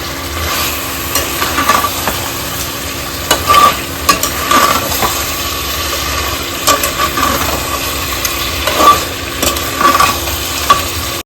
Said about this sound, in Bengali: এখানে মাংস কষছে দেখো কি সুন্দর কালার বেরিয়ে গেছে